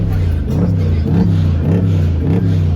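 Car engines at a car meet rev in pulsing waves, a deep throaty rumble that rises and falls about every half second, loud and close, with faint crowd noise beneath.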